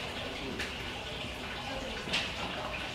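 Tea is poured out during a tea ceremony, a soft steady trickle of liquid heard faintly and close, with a brief splash near the end.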